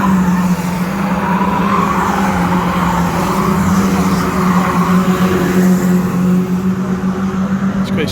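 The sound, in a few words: stock cars racing on slippy track at Cowdenbeath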